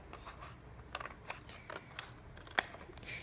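Scissors snipping through card while cutting out a paper house shape, a series of small, close, crisp cuts with soft crackles in between and a sharper snip near the end, quiet overall with no talk.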